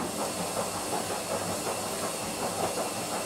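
Butter sizzling steadily as aubergine fries in a pan for an aubergine pasta dish, a continuous close hissing crackle with no talk.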